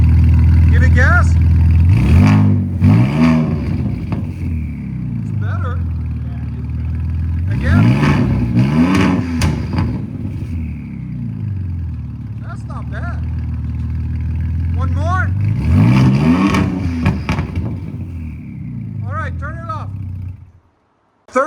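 A Ford Raptor fitted with NTR race mufflers revs three times in bursts, each a loud rising roar that falls back to a deep idle rumble, close by and with no talk over it.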